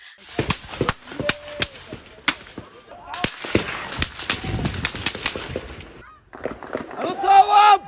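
Sharp 5.56 calibre rifle shots crack out in an irregular series, some spaced apart and others in quick bursts. A tonal, voice-like sound rises near the end.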